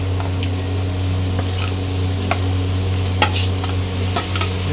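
Amaranth greens (sirukeerai) hitting a pan of golden fried onions give a steady close sizzle with light stirring scrapes and soft clicks throughout, with no talking.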